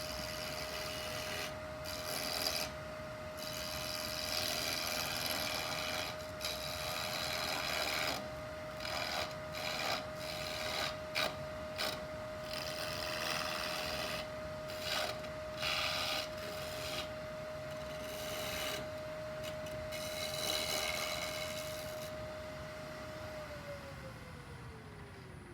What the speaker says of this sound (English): I was using a bowl gouge right now just because I happen to like it